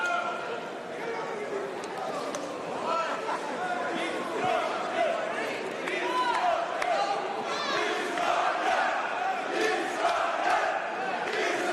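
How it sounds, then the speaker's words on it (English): Crowd at a boxing match at Techport chanting in Uzbek support for a fighter, a dense continuous roar of voices and rhythmic chants filling the arena, with a commentator talking over it. "Uzbek chants coming from the crowd here at Techport"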